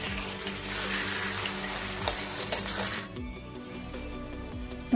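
Chopped tomatoes frying with spices and ginger-garlic paste in a pan for Bengali chicken curry, a steady close sizzle with occasional stirring clinks, thinning out partway through.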